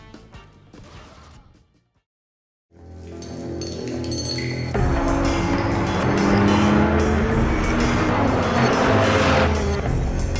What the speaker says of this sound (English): Gran Turismo VI is a racing video game developed by Polyphony Digital